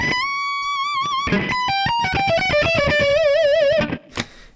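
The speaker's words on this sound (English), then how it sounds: "And so that's the distortion." A distorted electric guitar runs through a pedalboard with a distortion effect, playing sustained and bent notes with vibrato and a fast run of picked notes, loud and close.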